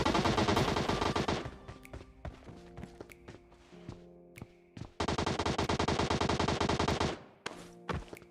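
Bursts of automatic gunfire from a battle royale video game, dense rapid volleys at the start and again midway, with scattered single shots and quieter gaps between them.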